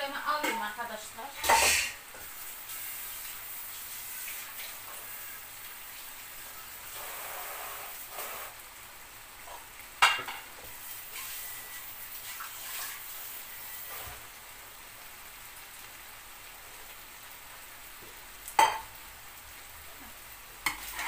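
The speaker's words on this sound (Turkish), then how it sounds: "Şimdi tencereme alayım arkadaşlar" Food stirred and sizzling in a cooking pot during home preparation of an Antep dinner dish, a steady low frying hiss with occasional sharp spoon-against-pot clinks, moderately close and fairly quiet.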